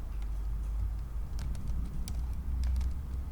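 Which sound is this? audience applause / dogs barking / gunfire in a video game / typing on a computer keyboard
typing on a computer keyboard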